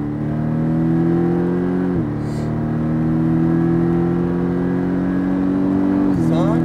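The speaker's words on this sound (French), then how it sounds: "Là, c'est la plus grosse ligne droite. Donc, tu peux accélérer fort." A Porsche Cayman accelerates hard down a circuit straight, its loud engine note climbing steadily in pitch, dipping briefly at two gear changes, close and continuous from start to finish.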